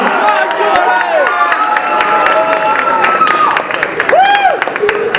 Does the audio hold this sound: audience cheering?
yes